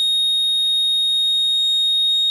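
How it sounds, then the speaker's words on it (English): An Arduino with an ultrasonic distance sensor drives a buzzer close to a wall, producing one steady, continuous high-pitched electronic tone that holds at full loudness throughout with no voices. "I set it to beep progressively louder as I approached a wall, with continuous beeps at the end"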